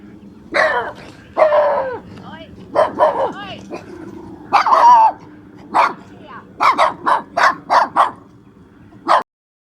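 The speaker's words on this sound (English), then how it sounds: "this was actually the 3rd time I've been attacked by these little dogs" Small dogs bark in repeated bursts close by, first in longer yapping runs and then in a quick series of sharp, separate barks before the sound cuts off.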